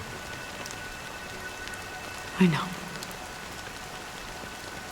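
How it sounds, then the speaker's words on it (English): Steady rain falling in a video game, a constant hiss of drops on surfaces throughout, with one brief soft thump partway in and a short spoken line. "But it's still raining."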